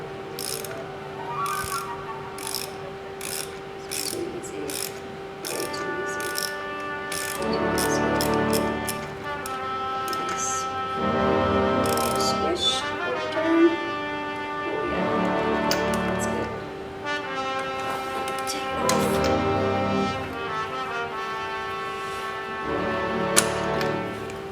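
A ratchet clicks in repeated bursts while loosening a spark plug on a Suzuki SV650 motorcycle, rhythmic pawl ticking close up, pausing between strokes, with no talking.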